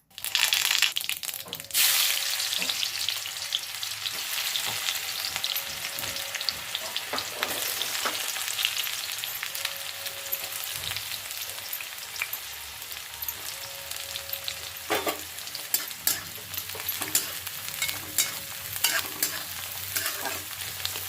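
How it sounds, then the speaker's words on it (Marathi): Onions frying in oil with crackled cumin and mustard seeds for a banana-blossom vegetable dish, a continuous crackling sizzle with frequent scraping stirs throughout, close and fairly loud. "जिरं मोहरी तडतडल्यानंतर कांदा वापरायचा आहे आणि कांदा नेहमीपेक्षा जादा घालायचा आहे"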